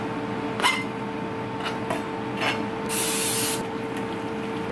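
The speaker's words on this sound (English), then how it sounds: "we're gonna put all this chicken in this bowl, spray it, and season it and toss it around" Cooking spray hissing onto chicken pieces in a bowl while preparing an air fryer dinner: a few short, close spritzes followed by one longer, sustained burst.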